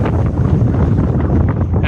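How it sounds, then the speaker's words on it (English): Wind at an outdoor viewpoint buffets the microphone in a loud, continuous low roar that rumbles and gusts steadily for the whole short stretch. "Another good viewpoint, just have some wind."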